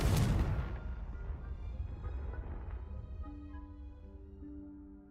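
Confringo blasting-spell explosion in Hogwarts Legacy, a loud sharp burst that rolls into a long rumbling decay, fading as soft game music tones rise beneath it.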